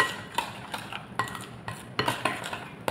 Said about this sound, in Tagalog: And then, i-mix natin.